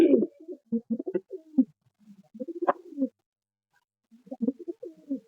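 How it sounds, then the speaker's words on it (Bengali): Golden-eyed pigeons coo in a series of soft, low rolling calls, close by, in two bursts separated by a quiet gap. "এটা মাদা পায়রা ঠিক আছে গোল্ডেন আইস যেগুলো বলে সেই পায়রা"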